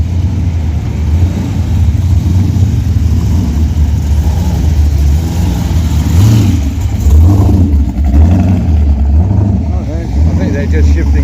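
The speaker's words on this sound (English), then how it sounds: "looks like some of them are starting to process out and make a bit of noise while they're doing it too" Cars pulling out of a Coffee and Chrome car meet give bursts of engine revving over a steady low rumble, with people talking nearby throughout.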